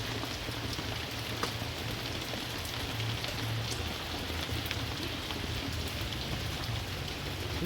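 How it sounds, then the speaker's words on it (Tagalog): Steady rain falls in the Philippines ahead of an approaching typhoon, a dense, even hiss of drops with a low rumble underneath, constant and fairly close throughout with no voices. "ayan, ulan dito."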